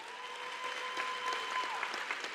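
Audience applause in a large commencement hall for a high school marching band, steady and moderately loud, with a sustained tone running underneath.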